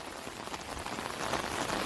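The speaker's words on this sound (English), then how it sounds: "Storming, raining." Steady rain pours during a storm, a dense close hiss of drops hitting surfaces that swells slightly louder toward the end, with no voices.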